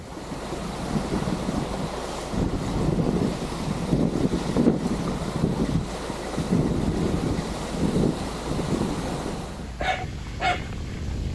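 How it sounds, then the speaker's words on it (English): Steady, loud wind buffeting the microphone for the whole stretch, a broad rushing roar with gusty swells and a couple of faint clicks near the end. "It's a bit windy today."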